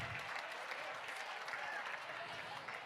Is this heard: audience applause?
yes